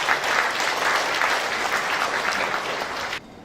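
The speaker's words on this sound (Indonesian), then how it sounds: "Tepuk tangan buat adik-adik semuanya." A crowd at a marine and fisheries polytechnic graduation ceremony in Sidoarjo gives the graduates dense, steady applause that holds at an even level, then stops abruptly.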